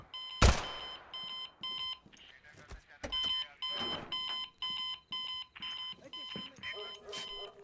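Repeating electronic alarm beeps in the video game Zero Hour, steady bursts of a shrill tone pulsing at a regular rhythm, loud and close, with a sharp thud near the start and other game noises between.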